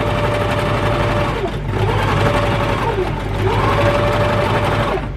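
A sewing machine stitches fabric for a star quilt block, with a loud, continuous rapid whirring hum that pauses briefly once and then resumes, close and alone.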